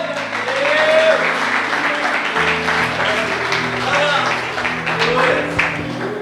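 Church congregation applauding during a worship service, a dense steady wash of clapping with voices and music-like tones underneath throughout.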